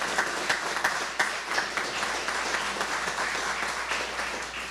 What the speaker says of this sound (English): A round of applause for these individuals.